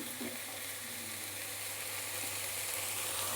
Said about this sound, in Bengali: একসঙ্গে পেঁয়াজ আদা রসুনের সঙ্গে সোয়াবিনগুলোকেও নাড়াচাড়া করে নিচ্ছি